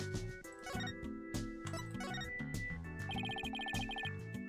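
Telephone ringing in the Apollo Justice: Ace Attorney game, a repeating electronic ring pattern in short regular bursts layered over tonal game music, fairly quiet throughout.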